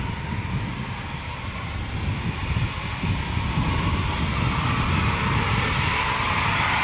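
A Typhoon fighter jet of No. 3 Squadron returning to RAF Coningsby, its engine a loud, steady, broadband roar that holds level and swells slightly toward the end, with no voices over it.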